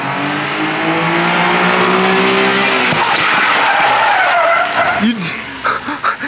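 A Japanese kei truck on classic JDM wheels spins a 180, with loud, sustained tire squeal and skidding over engine revving. The screech fades at the end as people start talking.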